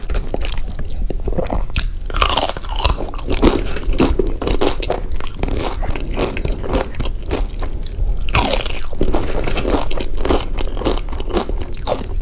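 Crunchy chips and a giant Chipotle burrito chewed close to the microphone, with continuous loud crisp bites and crackling mastication in dense irregular bursts, no talking.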